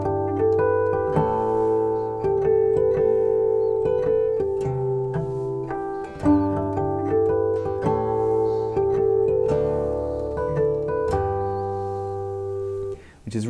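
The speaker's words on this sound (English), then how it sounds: "I wanted to voice the main melody of that piece with harmonics" Acoustic guitar plays the melody of a waltz in mixed artificial and natural harmonics, bell-like chiming notes ringing over a steady plucked bass line, close and clear with no talking.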